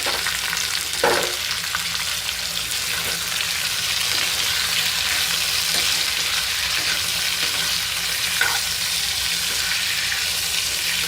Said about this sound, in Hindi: बैगन के भरते बनाने में प्याज को हम ज़्यादा ब्राउन नहीं करेंगे, हल्का हल्का सा भूनेंगे इसको